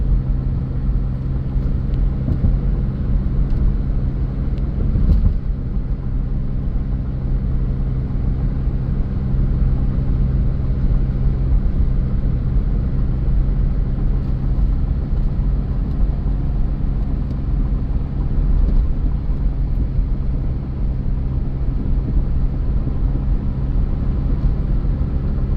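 A 2005 Buick Terraza minivan driving uphill and accelerating, heard from inside as a steady low engine and road rumble that holds for the whole stretch without voices.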